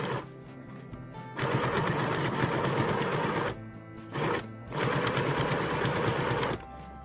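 A sewing machine stitches the sleeve gap of a thrifted bustier top in two long, steady runs separated by a short pause, close and clear with no talking.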